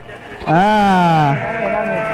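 Close, loud bleat from a Dorper crossbred sheep in a pen, one long wavering call lasting about a second, followed by quieter pen background.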